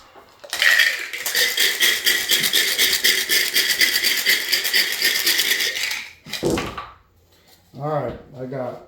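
Dice rattle loudly and continuously as they are shaken in a cup for a roll in a tabletop war game, about five seconds of dense clattering that ends abruptly, followed by short bursts of speech.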